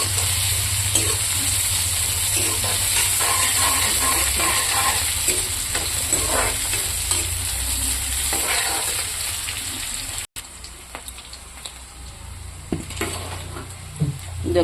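Chopped onions with bay leaves sizzling steadily in hot oil in a pan as they brown, with occasional scrapes of a stirring utensil against the metal and a brief dip in the noise partway through.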